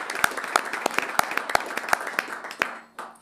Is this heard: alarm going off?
no